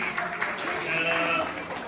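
An audience at a Christmas service in an Antwerp Urdu church applauds as a family comes up to collect a prize. The clapping is steady, dense and sustained, with a voice talking over it.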